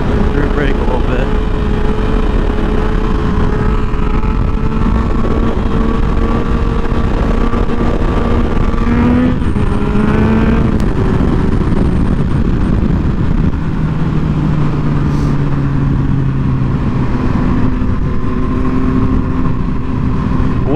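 Motorcycle engine running steadily through wheelie practice with rear-brake use, the pitch drifting up and down as the throttle shifts, loud and continuous for about twenty seconds with wind noise and a voice talking over it.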